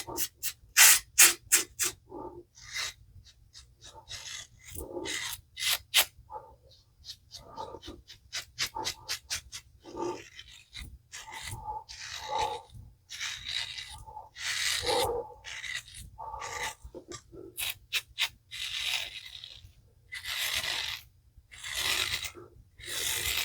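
A PAA Artifact safety razor shaves the neck in a buffing pass, with short raspy scraping strokes up close, quick bursts at first, then slower, longer scrapes repeating with brief pauses between them.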